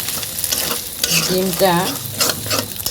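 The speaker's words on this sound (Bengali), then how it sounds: "2টা ডিম ভেঙে দিচ্ছি এখানে।" Two eggs crack into hot oil with onions in a heated wok, the fry crackling and stirred in a steady scraping hiss for a few seconds, close and fairly loud, with no talking.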